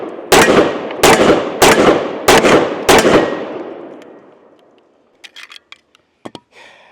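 Five heavy Desert Eagle XIX .50 AE pistol gunshots fire at a steady rhythm about half a second apart, loud and close, each blast leaving a long ringing tail before faint clicks and handling noises follow.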